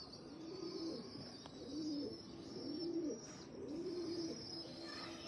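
Rooftop pigeons coo in a steady repeating rhythm, four or five rounded throaty phrases spaced about a second apart, moderately close over a soft outdoor background hiss.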